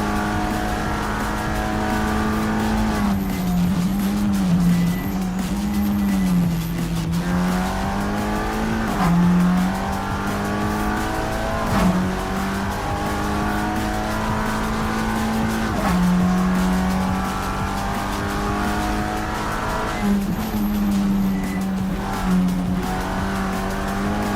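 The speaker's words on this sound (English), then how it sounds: "It's a beautiful sounding TCR car as it goes past our screens here" TCR touring race cars at Australian Grand Prix support racing drone loudly from an onboard Audi perspective, engine note rising and falling through gear changes and revs, continuous and close, with faint tire noise.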